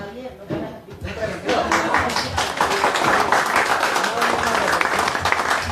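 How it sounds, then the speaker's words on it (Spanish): An audience at a Spanish-language discussion event breaks into applause that starts under a speaking voice, then builds into a dense, steady wash of clapping that lasts to the end. "Es un aplauso para Javier, no para ti."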